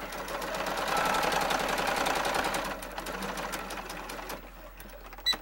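A sewing machine runs steadily as it stitches down the side of a fitted fabric mask, a dense, fast, continuous whirr that eases off and goes quiet near the end.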